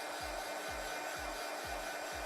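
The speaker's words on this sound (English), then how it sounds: "How loud is the heat gun for you guys?" A heat gun blows steadily, drying artwork on paper: a constant, loud whooshing roar with a low rhythmic thump repeating roughly every half second, heard alone and close.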